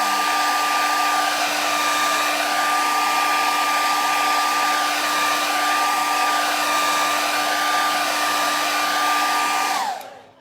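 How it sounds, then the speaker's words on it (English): A blow dryer roars steadily at close range while drying acrylic paint on a landscape painting, a constant loud whirring hum that cuts off abruptly at the end. "you just put a blow dryer and it dries in like seconds"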